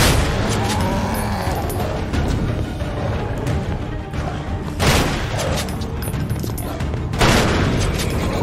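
Heavy gunfire in the video game Ebola 3, a dense clattering barrage with booming impacts and a few sharper bursts, loud and continuous, with a voice faintly mixed in at times.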